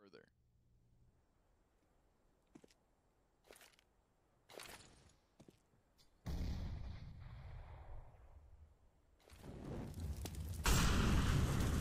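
Shotgun fire in Counter-Strike at a BLAST Pro Series Istanbul 2018 match: several sharp, spaced blasts over a quiet background, followed by a louder rumbling roar of gunfire and explosions.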